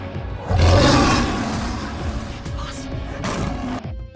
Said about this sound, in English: Number 5. Lion. The king of the jungle cannot stay out of this top.